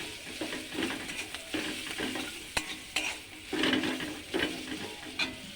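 Onions frying in a pan while being stirred, a steady soft sizzle broken by scraping spoon strokes and occasional sharp clinks against the pan, close and fairly quiet with no talking.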